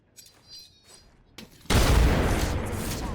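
An Apex Legends grenade goes off with a sudden loud burst after a few quieter clicks and movements, then a dense rush of gunfire and blast noise sustains to the end.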